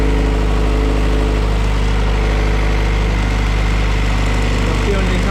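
A Honda CRX engine idles steadily after a flex fuel installation, giving a loud, constant low rumble with an even mechanical hum and no breaks.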